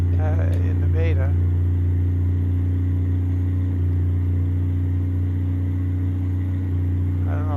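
The Western Star truck's engine in American Truck Simulator runs as a loud, deep, steady diesel rumble with a strong low hum throughout. It sounds underpowered under a heavy load, and brief whistling tones come at the start and end.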